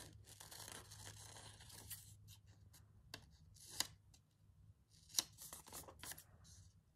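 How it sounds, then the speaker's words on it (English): Scissors snipping through paper while cutting out a paper butterfly for an art journal, a series of close, crisp cuts and rustles at an irregular pace, fairly quiet. "Let's just get this butterfly cut out properly so I get rid of all that white."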